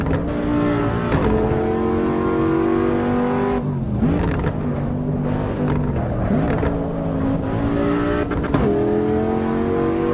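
A Porsche 911 GT3 engine in Assetto Corsa Evo on the Nordschleife revs hard and continuously, pitch climbing through gears with brief dips at shifts, loud and close throughout.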